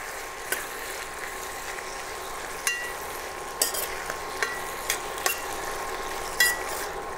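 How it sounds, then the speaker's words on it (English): Chili paste stirred in a frying pan with a spoon: irregular sharp scrapes and clicks over a quiet, steady sizzle, close and fairly faint. "This is 2 tablespoons of chili paste. Let's give it a good mix."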